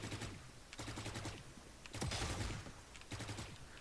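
Bursts of gunfire in Valorant, a tactical shooter game: several short volleys of rapid shots separated by brief pauses, close and fairly loud, with no talking.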